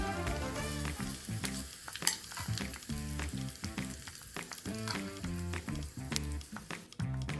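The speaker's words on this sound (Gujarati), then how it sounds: "આપણો સરસ વઘાર પણ થઈ ગયો છે હવે ઢોકળા ઉપર" Hot tempering poured over cheesy rava dhokla, its crackling sizzle running steadily under louder rhythmic background music.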